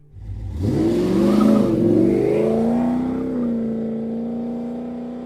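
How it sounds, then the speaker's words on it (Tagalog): A car engine revs hard and roars as the vehicle speeds away, its pitch climbing then settling into a steady loud drone that fades slightly as it pulls off. "Pinaharurot pa lalo ni Muhammad ang kanyang sasakyan."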